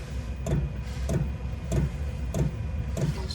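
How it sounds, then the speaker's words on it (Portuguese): Inside a motorhome, a diesel parking heater's fuel pump ticks in slow, regular pulses roughly every 0.6 seconds, each a soft close click over a low running hum. "Isso daí já é a bomba que tá puxando o diesel para dentro do motor."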